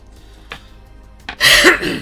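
A couple of short throat-clearing sounds, then a louder, harsher cough-like burst near the end, close to the mic.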